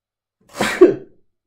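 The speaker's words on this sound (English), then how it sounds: "I gotta sneeze." A single sneeze from a man, sharp and close, with a quick intake leading into a burst about a second long, then quiet.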